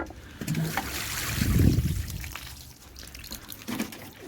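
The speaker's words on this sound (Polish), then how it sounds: "Jeszcze musimy wody wlać." Water splashes and gurgles as it is poured into a bucket while mixing limewash for a rabbit hutch, a brief sloshing burst followed by quieter trickling.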